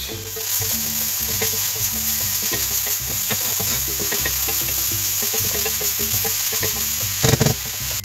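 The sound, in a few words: ratatouille vegetables stirred and cooking in pan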